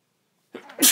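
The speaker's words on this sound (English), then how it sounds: "to sneeze" A single close sneeze, with a short sharp inhale followed by a bright explosive burst at the end.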